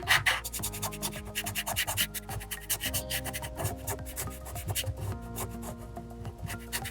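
Dry chalk pastel is rubbed and smudged on paper in quick, repeated scratchy strokes, close and fairly soft, with faint music underneath.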